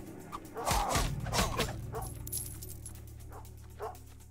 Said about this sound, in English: stop barking so much